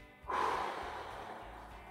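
A single slow, audible exhale through the nose during a neck stretch, soft and close, tailing off gradually with no talk.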